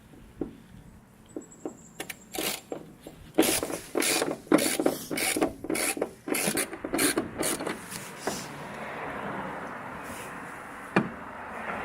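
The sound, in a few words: breaking car trunk strut bolts free with a wrench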